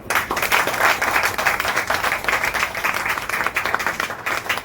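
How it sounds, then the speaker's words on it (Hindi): Loud applause from an audience at a network marketing business seminar in Patel Nagar, New Delhi, dense steady clapping filling the room without a break, no voices above it. "जोरदार ताली पहले।"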